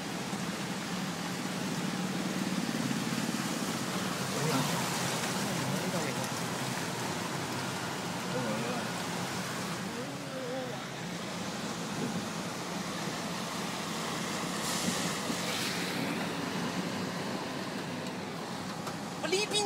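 A heavy black rainstorm pours over a flooded Kwai Chung Road in Hong Kong, where vehicles are stranded, making a loud, steady broadband roar of rain. People talk in Cantonese over it throughout.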